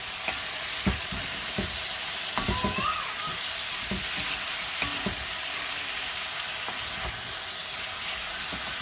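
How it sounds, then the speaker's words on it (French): Pieces of beef shank stirred in a pot for a beer-braised dish, a steady close sizzle under repeated scraping and clattering strokes of the utensil. "nous allons mélanger nos morceaux"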